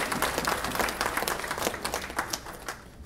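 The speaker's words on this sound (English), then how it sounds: "Let's give a round of applause to them." Banquet audience breaking into sustained, dense applause that holds steady for a few seconds, then thins as it starts to fade.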